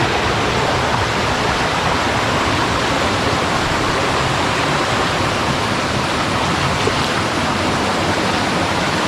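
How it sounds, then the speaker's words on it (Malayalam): The Kalluvathil waterfall near Malayattoor roars in a dense, unbroken rush of water between rocks, loud and close, with no other sounds. "ഇതാണ് കല്ലുവാതിൽ വെള്ളച്ചാട്ടം"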